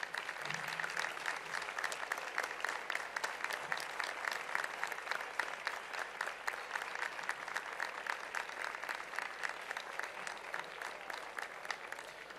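Sustained applause from the audience at a Valdepeñas honours and distinctions ceremony, many hands clapping in a thick, even wash that continues without any talk.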